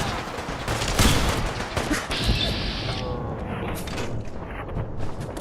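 Gunfire in the Fallout 4 game Sim Settlements 2, a dense burst of rapid shots and crashing impacts up front that thins out into scattered echoing reports and lingering game ambience, with no talk.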